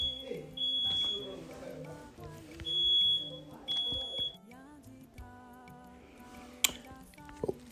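A fire alarm in a church setting gives several short electronic beeps at irregular intervals, heard under the reverberant talk of a congregation and fairly faint against the voices.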